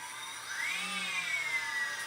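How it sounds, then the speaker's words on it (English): Small quadcopter brushless motor on a CC3D flight-controller setup spinning alone on the bench, a thin whining tone rising then easing over about two seconds, steady and fairly faint. "That's going to be motor number 2. It should be turning counterclockwise."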